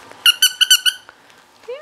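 A squeaky plastic dog toy from a dollar store is squeezed five times in a quick, rhythmic run of shrill, close squeaks, followed by quieter rustling and a brief high note at the end.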